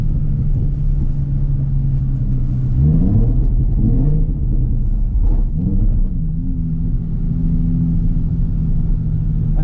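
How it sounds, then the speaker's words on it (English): Nissan 350Z engine drifting on a track, a loud, close, steady rumble with rising and falling revs. "give the 350s a bit of grief for what they sound like, but I like the sound of them"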